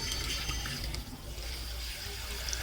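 Mung beans being rinsed in water give a steady, fairly faint wash of running and sloshing liquid throughout, with no voices.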